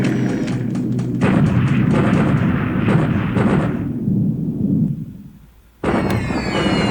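Bomb explosions in the War in the Pacific strategy game, a loud rumbling blast that sustains and fades out, then another sharp burst starts abruptly near the end.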